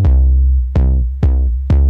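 An 808-style synth bass line programmed in Logic Pro X plays alone, four deep booming notes, each with a sharp attack and a long decaying tail, in an uneven rhythm.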